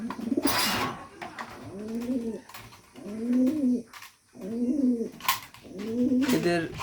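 Racing pigeons inside a loft coo in four or five steady, close, resonant phrases, each about a second long, with sharp clicks and rustling in the gaps.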